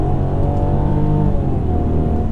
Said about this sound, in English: Oh yeah, a lot of pumped in noise from this engine.